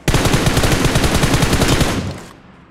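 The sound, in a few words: gunfire in the video game BGMI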